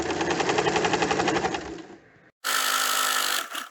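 A home sewing machine runs a fast rhythmic stitch along a puff sleeve hem, stops briefly, then starts again in a smoother, steadier burst, close and loud with no talking.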